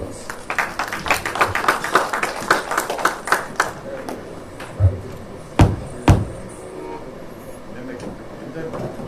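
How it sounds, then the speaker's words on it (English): Scattered audience applause at an inauguration performance, a burst of claps that thins out into a few isolated, sharper claps amid room noise and some voices. "Please give a big round of applause."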